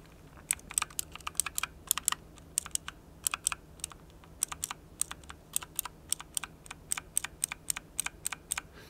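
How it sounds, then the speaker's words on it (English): An MSI Vigor GK50 Elite mechanical keyboard with keys pressed without bottoming out, giving sharp, light clicks in quick pairs and small bursts, close and clear with no talking. "I'll try and press the key now without bottoming it out, so you can only hear the click."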